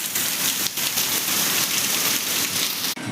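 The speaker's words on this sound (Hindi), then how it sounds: "सुबह के 6 बज चुके हैं और इतनी तेज़ बारिश हो रही है ना" Heavy rain pours at six in the morning on Raksha Bandhan, a dense, steady, loud hiss of drops striking surfaces with no pause, briefly dipping near the end.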